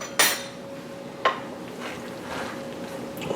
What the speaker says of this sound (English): just kind of cut it out with a spatula